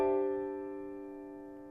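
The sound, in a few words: chord of stacked perfect fourths built on D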